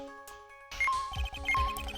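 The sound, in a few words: metal detector signal turning on in video game Ace Attorney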